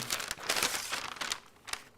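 Close crinkling and ripping of wrapping paper in several quick bursts, rustling loudly then trailing off.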